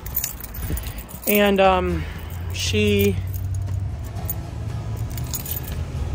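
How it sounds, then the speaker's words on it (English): A bunch of keys jangles loudly in two short bursts close to the microphone, with a car engine humming steadily beneath and a brief spoken word at the start. "let me find my keys real quick."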